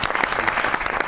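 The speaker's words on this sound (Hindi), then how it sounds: "ताली होनी चाहिए।" Studio audience applause on a Pakistani comedy show, a dense steady wash of clapping throughout the short burst with no talk over it.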